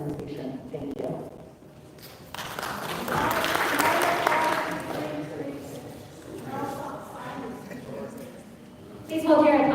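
An audience at a candidate event for the Court of Common Pleas bursts into a short round of clapping between spoken introductions, with talking before and after the applause.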